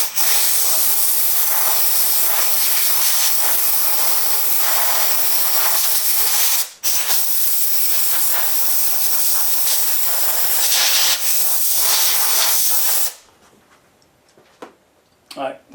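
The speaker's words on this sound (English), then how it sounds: "I'm going to get the air hose and blow off the excess" Compressed air hose blasting excess glue off an upholstered door panel for an F100 truck, a loud continuous hiss lasting many seconds with one brief break, then stopping abruptly, leaving faint handling noises.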